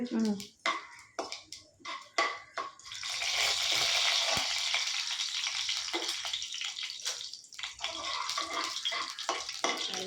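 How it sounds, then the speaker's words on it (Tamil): Peppercorns and cumin seeds crackle and sizzle in hot oil in a home kitchen, a bright hiss that swells and holds after a few seconds of talk, with voices speaking over the frying. "நல்லா பொரியட்டும்"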